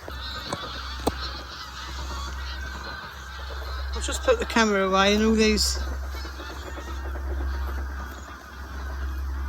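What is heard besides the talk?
geese honking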